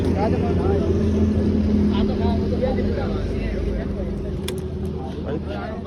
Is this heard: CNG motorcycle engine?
yes